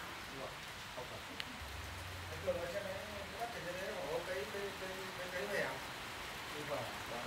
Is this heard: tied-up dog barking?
no